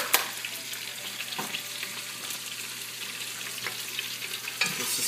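Thyme, bay leaves and mirepoix of onions, carrots and celery stirred in a hot pot, a continuous close sizzle broken by a few scraping knocks of the spoon.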